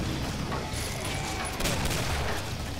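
Gunfire from a double barrel shotgun in the Killing Floor video game, dense loud bursts and booms filling the whole stretch with a busy, continuous battle din.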